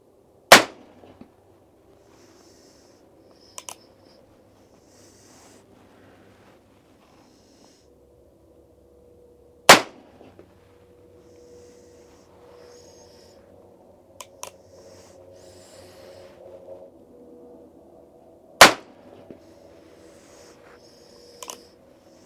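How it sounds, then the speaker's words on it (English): A revolver chambered in .44 Colt fires single rounds at wide, irregular gaps. Each produces a sharp, abrupt crack, with a few fainter clicks and handling noises in the quiet stretches between. "We're ready to fire our 5 rounds."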